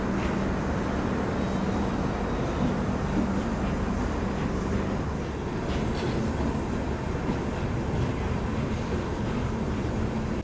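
Duronto Express hauled by a Tata Nagar WAP7 electric locomotive, departing Vizianagaram Junction and heard from inside a general compartment as a steady, continuous rumble of wheels and carriages with faint rhythmic clatter.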